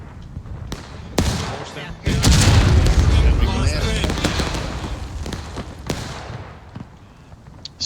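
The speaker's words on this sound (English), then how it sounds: "the barrage that continues to rain down from the CSA artillery" Civil War video game artillery barrage, a string of heavy cannon booms and sharp blasts, some close and loud and others farther off, with the low rumble rolling on between them.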